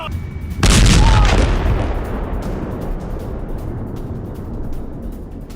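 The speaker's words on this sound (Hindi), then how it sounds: "गाजा में आईडीएफ की भयंकर बमबारी" A single heavy explosion from an IDF bombardment of buildings in Gaza bursts close and loud, then decays into a long, low rumble.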